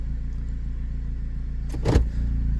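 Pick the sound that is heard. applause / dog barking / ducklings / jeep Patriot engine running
jeep Patriot engine running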